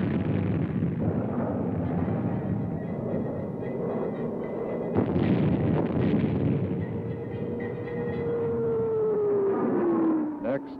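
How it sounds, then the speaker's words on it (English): Military aircraft laying down rockets, machine-gun fire and napalm on a simulated enemy area at the Grafenwöhr demonstration: dense rumbling blasts and sustained firing, with a sharp burst midway and a falling engine whine near the end. "Laying down rocket, machine gun fire and napalm on the simulated enemy area, U.S. aircraft also take part in the Grafenwöhr demonstration."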